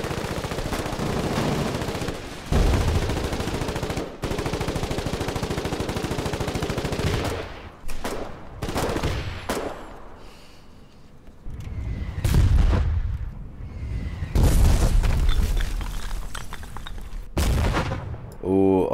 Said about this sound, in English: Our fucking howitzers are going off.